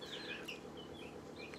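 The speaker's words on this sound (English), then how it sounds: "That's the turkey right here." A young turkey calls among baby chicks: faint, high chirps and peeps recur over a steady low background hum, with no one speaking.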